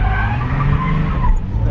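Tires of a Nissan 350Z squeal loudly and continuously as it drifts at a drift event, a close, sustained screech layered over the car's engine noise.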